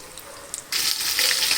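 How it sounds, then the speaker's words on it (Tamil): Prawns dropped into hot oil set off a sudden loud, steady sizzle and crackle of deep frying that continues to the end, with no talking. "இப்போ எண்ணெய் காஞ்சிடுச்சு, பொரிச்சு எடுத்துக்கலாம்"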